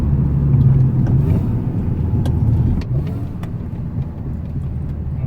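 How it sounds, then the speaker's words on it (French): A car pulls away hard with no lag, its engine rumbling loud and close in a steady low drone that eases slightly after a few seconds, with no voices. "ça part direct, il n'y a pas de latence entre le moment où j'appuie et le moment où la voiture part"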